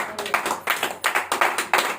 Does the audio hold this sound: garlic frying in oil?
no